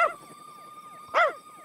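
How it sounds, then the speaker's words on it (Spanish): A dog gives two short, sharp barks about a second apart, with a steady high electronic tone running underneath. "¡Deja de ladrar!"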